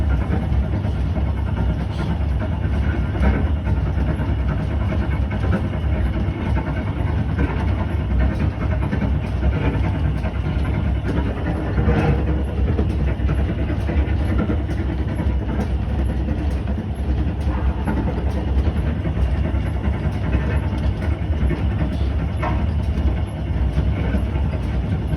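Welsh Highland Railway train running with the floor shaking beneath, a steady loud low rumble and mechanical drone that continues unbroken throughout, with faint rhythmic rattling on top.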